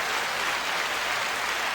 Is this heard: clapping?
yes